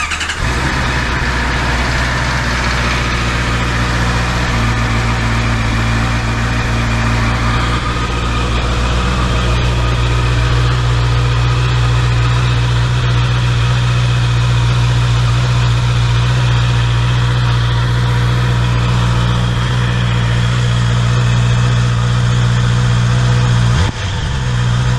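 A 2024 Honda CBR650R motorcycle engine starts and settles into a steady, loud idle in a garage, a continuous even hum that runs unbroken for about twenty-four seconds before cutting off abruptly.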